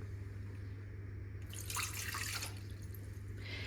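About 200 ml of water pours briefly into a saucepan with a splashing rush over a steady low hum, then trickles off.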